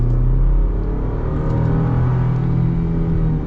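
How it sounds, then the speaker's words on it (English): A Chevy Colorado mid-size pickup truck accelerates at full throttle, its engine a steady, loud low rumble that builds slightly while it runs on without a pause and with no talking. "let's get our acceleration here with the Colorado full throttle and see what this feels like"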